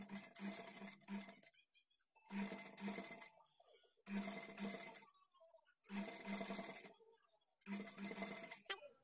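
A sewing machine stitches a blouse neckline in five steady runs of several seconds each, separated by brief pauses, with a loud, close mechanical whir and clatter.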